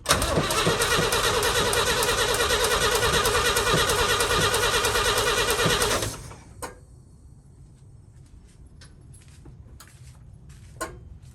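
A 1966 International Harvester 1100A truck, left sitting for 24 years, cranks over with a loud steady rhythmic starter churn for about six seconds without firing, then stops, leaving quiet with a few faint clicks.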